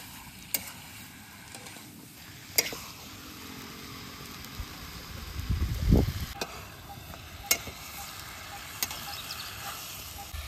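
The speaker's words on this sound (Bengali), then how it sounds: "এবার ভালো করে এটা ভাজা লাগবে, মানে ভালো করে কষানো লাগবে, প্রায় 10 মিনিট মতো কষানো লাগবে এটা মটনটা।" Mutton sizzling and frying in a pan while being stirred, a steady low crackle with occasional sharp scrapes and clinks of the spoon, one louder stirring surge midway, no talking.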